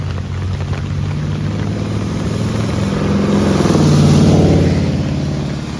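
Steady rain hisses over a New York street in the evening while a car's engine rumbles closer, swells to a peak and fades as it passes; no one speaks.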